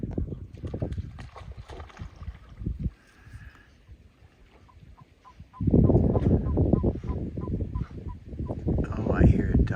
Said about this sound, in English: Oh, I hear a duck in there.